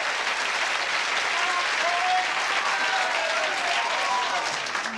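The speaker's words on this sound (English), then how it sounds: "Give Samantha a round of applause." A studio audience on a 2003 Australian Price Is Right game show breaks into applause, a dense, steady wash of clapping that holds loud and even for several seconds.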